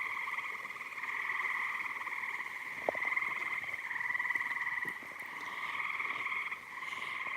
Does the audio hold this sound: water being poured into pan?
no